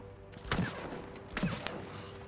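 Rockets firing in the video game It Takes Two, two sharp bursts about a second apart, each a loud blast that trails off, over a low steady game background.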